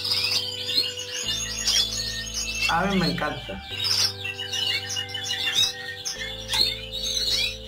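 Red mosaic canaries chirp and trill continuously, dense bright song with quick warbles and repeated calls, close and lively, while someone speaks briefly over them.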